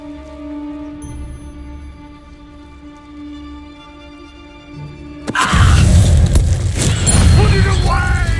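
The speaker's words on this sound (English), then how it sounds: "Explosion!" An explosion in Hogwarts Legacy breaks in as a sudden loud booming burst after a sustained tonal hum, then rumbles on with voices mixed in.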